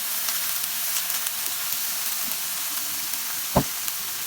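Tomatoes tossed in with shrimp sizzle steadily in a hot pan, a continuous bright hiss with a single sharp clack from a utensil against the pan near the end, no voices.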